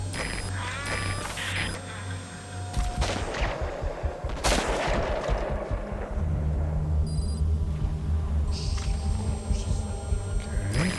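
Gunfire in the stealth action game Metal Gear Solid V: The Phantom Pain, a sharp loud burst around four and a half seconds followed by rattling automatic fire amid droning in-game ambience.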